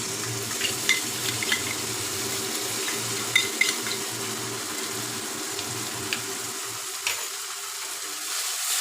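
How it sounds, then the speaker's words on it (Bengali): Ginger-garlic paste and chopped onions fry in a pan, a steady hissing sizzle with small pops and stirring clinks, the frying easing off near the end. "এবার আদা রসুনের পেস্টটা দিয়ে দেবো"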